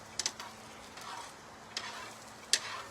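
Onions fry in a pan outdoors at a tailgate, a quiet steady sizzle broken by a few sharp ticks and scrapes of stirring, with no talking.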